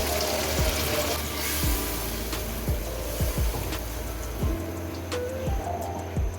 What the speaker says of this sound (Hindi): अब इसमें पानी शामिल कर दें